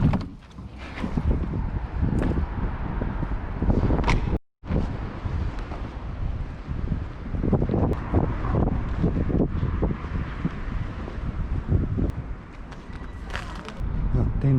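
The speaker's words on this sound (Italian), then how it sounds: "anche perché fuori c'è vento" Steady gusty wind buffets outside a camper van, a continuous rushing roar with one brief dropout, and a voice talks faintly under it.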